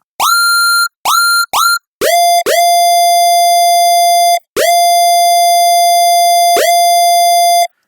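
A synth fires bright, pitched laser zaps in a rhythm: three short bursts, then longer sustained tones, loud and electronic.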